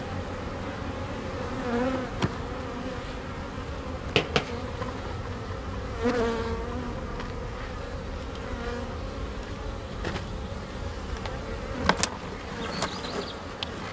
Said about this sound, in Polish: Nawet i tu jest pszczoła